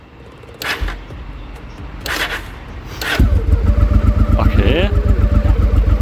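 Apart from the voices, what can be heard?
motorcycle engine test start after valve adjustment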